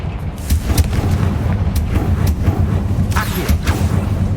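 The Confringo blasting spell in Hogwarts Legacy sets off a dense, rumbling explosion with crackling bursts that roar continuously for several seconds at close range.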